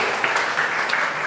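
Brief applause from an audience at a speaking event, a steady patter of many clapping hands heard for just over a second.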